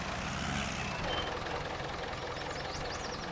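Tractor engine in the video game Farming Simulator 19, a steady low mechanical drone running throughout at a moderate, somewhat distant level, with no talk over it.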